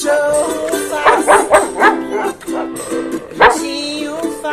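Repeated dog barks are mimicked by a voice in a playful children's song, forming a rhythmic string of close, fairly loud yips over sung music.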